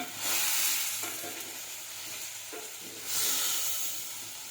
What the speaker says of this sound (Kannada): ಈ ರೀತಿಯಾಗಿ ನಾವು ಮಿಕ್ಸ್ ಮಾಡ್ಕೊಬೇಕು ಎಣ್ಣೆಯಲ್ಲಿ.